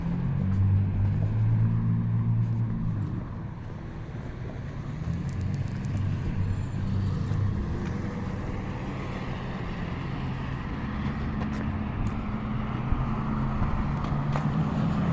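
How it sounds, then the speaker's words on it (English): Steady city street traffic in Dartmouth, Nova Scotia, cars rumbling past nearby in overlapping waves, moderately loud, no talking. "I'm going to let some of the cars go by"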